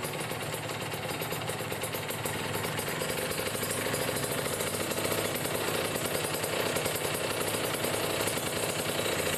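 A Kawasaki Ninja RR motorcycle with a carbureted engine and a rough-running carburetor fault idles close by, giving a steady, loud, rapid rattling drone with no breaks.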